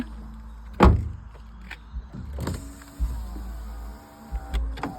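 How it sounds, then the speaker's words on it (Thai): A 2012 Isuzu D-Max pickup's front and rear power windows whir up and down in several short motor runs, with soft thumps as they stop. The sound is quiet and close. "เดี๋ยวเราเช็คกระจกไฟฟ้านะคะ คู่หน้า ขึ้นลงค่ะ"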